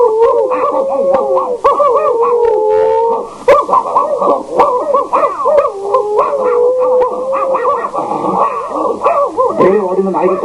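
A man imitates an Alsatian dog howling, his voice rising and falling in long drawn-out wails with yips and whimpers, loud and close, continuing for about ten seconds with a brief dip near the middle.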